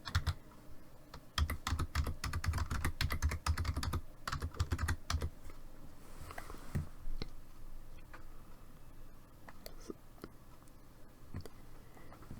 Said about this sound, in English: I want them to see what I'm typing.